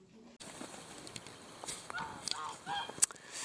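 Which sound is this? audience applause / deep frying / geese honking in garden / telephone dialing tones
geese honking in garden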